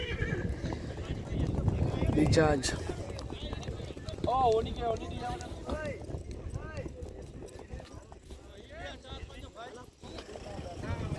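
Racehorses at a village horse race in Kutch, Gujarat whinny and clop their hooves amid a noisy outdoor crowd, with someone talking excitedly over the continuous commotion.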